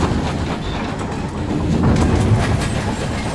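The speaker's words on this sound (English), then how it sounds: "On a fucking train." A train in the Night in the Woods video game rattles and rumbles steadily at close range, a dense continuous clatter with no voices.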